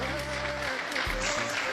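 A church congregation clapping in a dense, continuous burst of applause under a loud voice, with a sustained tone ringing over the crowd noise throughout the short moment.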